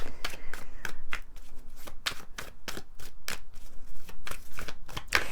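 Tarot cards being shuffled by hand in quick, uneven bursts of riffling and flicking, close and fairly loud, continuing steadily with no talking.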